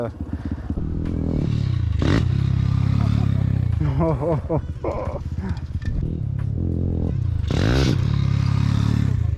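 Motorcycle engine running steadily while being ridden, a bike that seems to be performing poorly, loud and continuous with rising and falling revs; people talk over it throughout.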